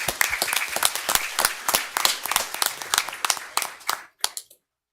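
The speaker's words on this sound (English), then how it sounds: "One more round of applause." A school board meeting audience claps in a moderate, uneven round with distinct individual hand claps that thin out and stop near the end.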